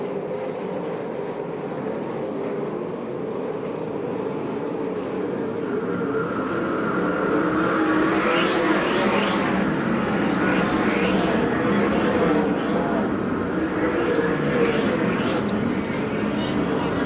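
USAC/CRA sprint cars racing at Perris, a sustained loud engine roar with rising and falling passes, as a commentator talks over it throughout.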